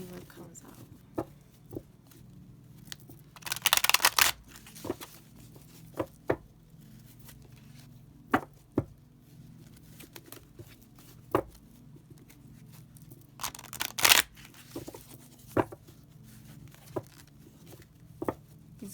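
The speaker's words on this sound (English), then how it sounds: "They're kind of flimsy too, but at least that makes shuffling them like this easier." Large, flimsy tarot cards being shuffled by hand, with two distinct bursts of papery riffling separated by scattered soft taps and card slaps, close and fairly quiet.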